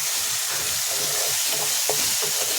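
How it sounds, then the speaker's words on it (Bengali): Fresh green chili dropped into a hot pan, sizzling and frying steadily with a few stirring clatters, close and continuous without talk. "প্রথমে দিয়ে দেবো যে কাঁচা লঙ্কাটা আমি রেখেছিলাম"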